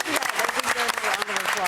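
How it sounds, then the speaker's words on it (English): A round of applause at a conference panel, clapping from a group of people that is steady and fairly loud throughout, with no talking over it. "they deserve a round of applause for that."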